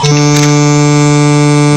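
A loud, sustained buzzy synthesizer tone with a rich stack of harmonics drones steadily in a recording studio, a short attack at the start, then holding level and unbroken without any voices.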